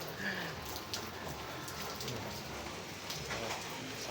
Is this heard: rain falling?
yes